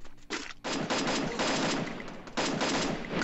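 Rapid bursts of automatic gunfire in a video game, several sustained volleys separated by brief pauses, loud and close with no talking.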